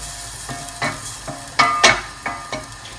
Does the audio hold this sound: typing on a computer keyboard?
no